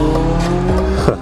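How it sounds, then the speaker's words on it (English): Lamborghini exhaust roaring loud and close as the car pulls away, a continuous rumbling engine note with a sharp rise near the end. "Kind of ugly exhaust in my opinion."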